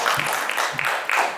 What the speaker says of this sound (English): please, with a true round of applause, make welcome Anila Ahmed.